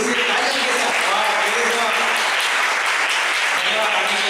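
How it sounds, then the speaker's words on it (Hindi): A church congregation at a Sunday evening service claps in welcome for three brothers, a steady even wash of applause running throughout with faint voices murmuring underneath. "क्यों ना हम उनका स्वागत करते पूरे दिल से ताली के साथ"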